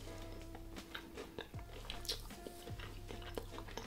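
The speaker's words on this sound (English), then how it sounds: "Maybe I should eat another one just to be sure." Someone biting into and chewing a Viking-style mince pie, with soft crunches and moist chewing sounds close to the mic, repeated in an uneven rhythm and fairly quiet.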